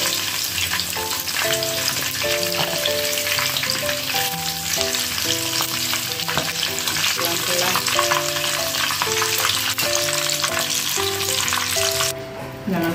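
Chicken frying in hot oil for Indonesian fried chicken, a loud, steady sizzle with bubbling crackle that runs continuously and close, with no talking.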